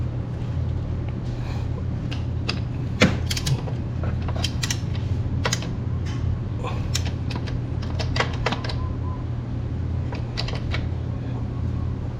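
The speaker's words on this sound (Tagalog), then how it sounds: "Gagamit tayo dito ng socket wrench na 12 mm" Ratchet clicks from a 12 mm socket wrench tightening the engine oil drain nut on a Honda Click scooter, a scattered run of sharp close ticks over a steady low hum, with talk nearby.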